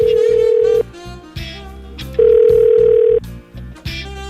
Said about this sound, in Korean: 얼른 전화 안 걸어?